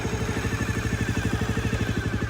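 A 1997 Honda Dream 50 motorcycle engine idling up close, a steady, rapid, even putter with a mechanical clatter on top, heard alone without talk.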